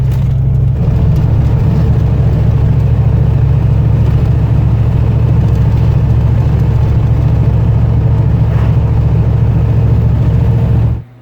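A car engine drones steadily at close range throughout a drive, with a constant low rumble and a brief shift in tone near the start, then cuts off abruptly at the end.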